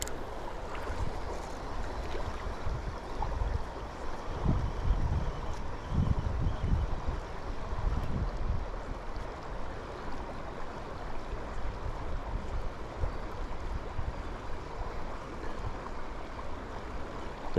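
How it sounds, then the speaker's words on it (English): A boat passes on a river, its low engine rumble swelling and fading over running water that gurgles steadily throughout. "There is gonna be a couple boats coming by"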